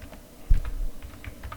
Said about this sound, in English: So I'm just typing it here